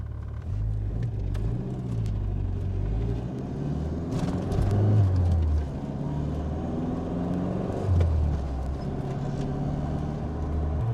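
A Mitsubishi Lancer sports sedan on very old winter tires pulls hard under acceleration, its engine drone rising and falling through gear changes as a steady loud rumble with no talking.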